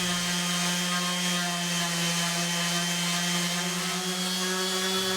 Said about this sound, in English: repeat the sanding process.